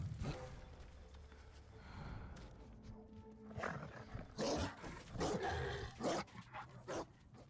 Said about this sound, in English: Let me assassinate the dog.